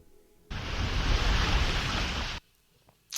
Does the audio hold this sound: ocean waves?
yes